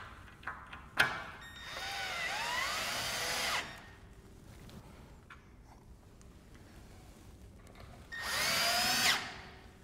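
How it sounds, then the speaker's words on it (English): Power drill driving wood screws into cedar posts during porch window installation, two whining bursts of a few seconds each with a click and knock before the first, quiet between. "I'm gonna get a couple more screws into this top section here"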